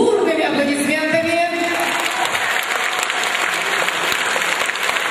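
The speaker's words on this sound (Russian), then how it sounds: "Встречаем его бурными аплодисментами." A large crowd applauds a boxer before a kangaroo-versus-boxer match, with loud, dense and steady clapping filling the whole stretch, mixed with a few cheers and an announcer's voice partly over it.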